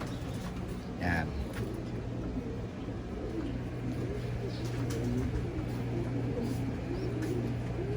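Pigeons cooing softly in a loft, low repeated coos under someone speaking, with a faint steady background hum.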